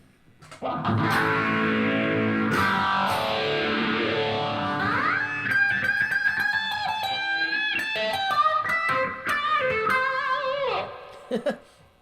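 An electric guitar played through a distortion effect rings out loud and close, first a long sustained, bending chord, then a run of gritty single notes and short phrases that ends on a few plucked notes.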